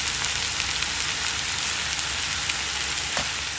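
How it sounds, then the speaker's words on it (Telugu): Brinjal pieces frying in a pan over medium flame, a dense, steady sizzle with constant crackle and a few louder pops, close and even throughout. "ముక్కలన్నీ కూడా ఒక్కసారి కలుపుకొని మీడియం ఫ్లేమ్లో పెట్టుకుని మూత పెట్టి వంకాయని వేగనివ్వాలి"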